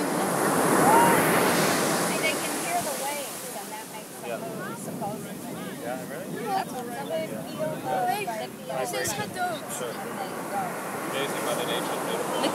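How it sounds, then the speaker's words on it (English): Ocean surf rolls and washes onto a beach at Todos Santos during a turtle release, a steady close roar of breaking water with wind buffeting the microphone and voices talking over it. "when the waves come, they get splashed up"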